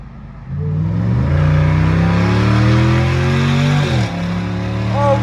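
A car accelerates hard down a straightaway, its engine revving loud and close with a steadily climbing pitch. A brief dip near the end sounds like a gear change before it pulls again.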